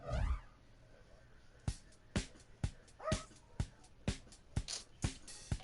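A dog barks repeatedly in a steady run of about ten sharp, loud barks, roughly two per second, with a brief whine at the start and no talking over it.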